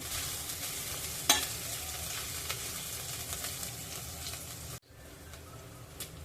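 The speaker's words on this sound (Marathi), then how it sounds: "तर आता लसूण आपण गुलाबी रंग येईल इथपर्यंत परतायचा आहे" Garlic sautéing in a hot pan until it turns pink, a steady close sizzle with scraping stirs and one sharp knock of the spoon, the frying sound dropping quieter near the end.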